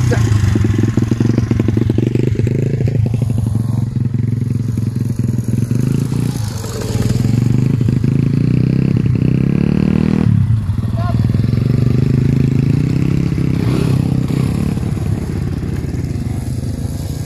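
A motocross motorcycle runs laps on a dirt track, its engine droning loud and steady near the listener, the pitch rising and falling with throttle changes and briefly dipping before surging again, with a voice heard over it.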